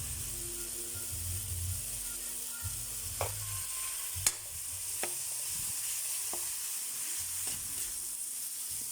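Ground meat sautés in a pan with a little fish sauce while chayote waits to go in, a steady close sizzle broken by a few sharp utensil clicks and scrapes against the pan.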